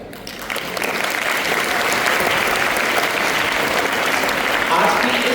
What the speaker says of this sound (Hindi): तालियों की गड़गड़ाहट के साथ सभी प्रतिभागियों का उत्साह वर्धन करें